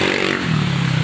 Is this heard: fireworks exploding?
no